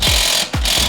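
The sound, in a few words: wrench removing Audi strut pinch bolt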